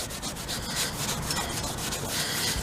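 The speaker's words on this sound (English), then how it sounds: "It's a maroon sanding pad." Maroon 400 grit sanding pad rubbed over a rust repair on an Astro van roof, steady scratchy back-and-forth strokes, close and continuous with no talk.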